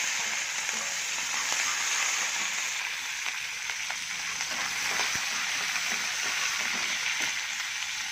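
Seasoning with curry leaves sizzles and crackles in hot oil, a steady bright frying hiss with scattered pops, close by and without speech.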